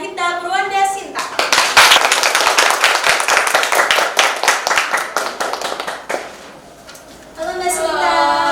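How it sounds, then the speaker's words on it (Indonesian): An audience gives lively, rhythmic applause at an Indonesian cultural program on a Tegal art studio and a young puppeteer. The clapping is loud and close and fades out near the end, with a voice speaking just before and after it. "mari kita beri tepuk tangan yang meriah untuk Grahita Purwanda Sinta."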